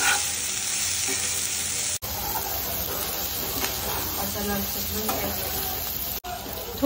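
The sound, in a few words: red chillies and spices dry-roasting in a pan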